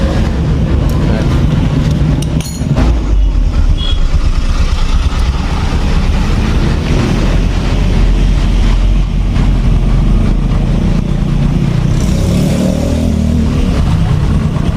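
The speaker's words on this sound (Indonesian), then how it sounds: "motor ini sudah menyala nih" A Honda Supra X 125 motorcycle engine idles steadily after a rebuild with new boring and cylinder head, a loud continuous close-up putter with slight revs, while people talk over it.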